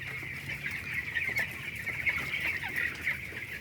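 Chickens cluck and chatter continuously at close range in a bamboo rack coop during brooding, a busy flock with overlapping calls and no talking.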